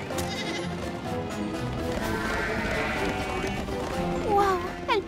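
A flock of cartoon sheep bleats in an animated My Little Pony episode dubbed in French. Overlapping bleats sound steadily over a busy background, and a few clear, wavering calls stand out near the end.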